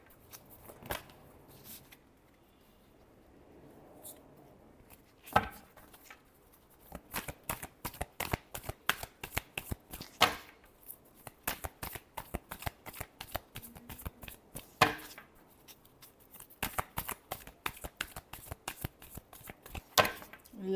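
Tarot cards being shuffled by hand for a weekly Pisces reading, a long run of crisp riffling slaps and flutters that comes in repeated bursts, close and fairly quiet, with no talking.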